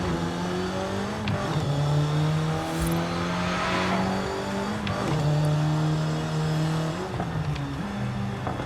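A racing video game car revs in sequential mode, its engine note climbing and then dropping with each upshift, several gear changes in a steady rhythm, loud and close with no talk.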